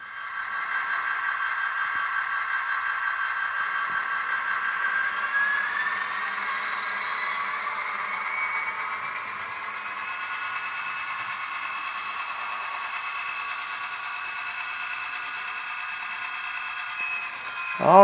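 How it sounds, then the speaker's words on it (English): An HO scale model locomotive runs on a test track toward a turnout, giving a steady, faint whirring motor hum with light rail clatter throughout and a brief clunk at the end. "We got a locomotive on the test track and we're going for this turnout right here."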